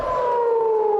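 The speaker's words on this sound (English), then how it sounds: "There's a siren." An air raid siren sounds in northern Israel, a sustained loud wailing tone holding a steady pitch with a slight downward drift, carrying clearly over faint background noise.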